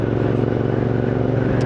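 Royal Enfield Interceptor motorcycle engine running steadily while riding through traffic, a continuous loud low drone with a constant throttle and no voices.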